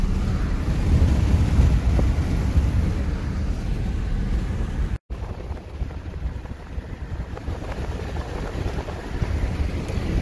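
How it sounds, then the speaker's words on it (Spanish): Heavy wind buffeting a microphone at the beach at Point Mugu State Park, a loud continuous low rumble and roar with surf noise mixed in and a brief dropout midway. "Disculpen el ruido del viento"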